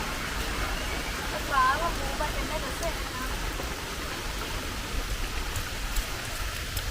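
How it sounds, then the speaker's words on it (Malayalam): Steady rain hisses evenly throughout, a constant soft wash of falling water, with a brief faint sound early on. "മഴയാണ്"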